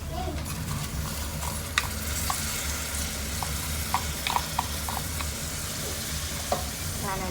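Soaked rice and dal stirred and frying in a hot tadka for khichdi, a steady sizzle running throughout with scattered clicks of a spoon against the pan, no voices.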